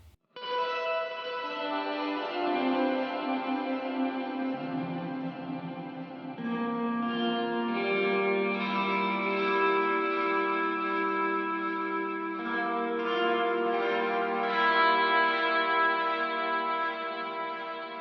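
Clean electric guitar tone with lush ambience from an STL Tonality Josh Middleton amp plugin: sustained chords ring out with long reverb and echo tails, changing every few seconds, played alone without talk.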